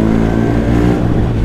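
A 145-horsepower motorcycle roars through an Akrapovic exhaust, a loud, steady, deep engine drone holding close and continuous with no pause.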